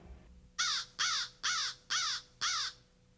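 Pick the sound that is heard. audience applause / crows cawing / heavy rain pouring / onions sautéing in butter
crows cawing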